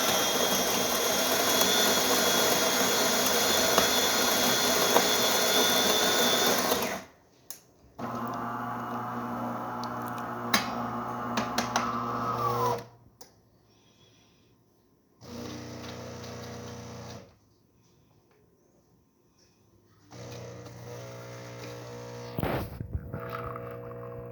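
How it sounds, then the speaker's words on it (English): A DeLonghi Magnifica XS espresso machine works through a shot in loud mechanical bursts: a sustained grinding roar, then separated stretches of motor and pump hum with brief pauses between them, no talk. "There we have a nice shot of espresso."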